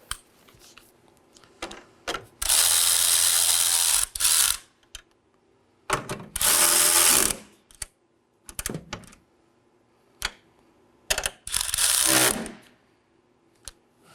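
Ratchet snugging down the battery hold-down bolts on a 2018-2024 Chevrolet Equinox: three loud bursts of rapid ratcheting clicks, each a couple of seconds long, separated by short quiet gaps with a few isolated taps.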